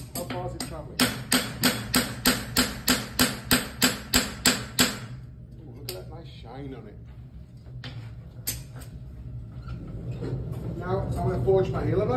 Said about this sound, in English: So you notice how high I'm picking the hammer up?